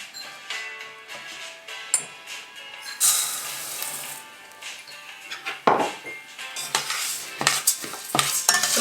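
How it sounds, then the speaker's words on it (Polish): Rice sizzles and crackles in hot oil while a utensil repeatedly scrapes and clatters against the pan, with bursts of louder stirring throughout. "też po odrzuceniu należy szybko wymieszać i będziemy go teraz podsmażać."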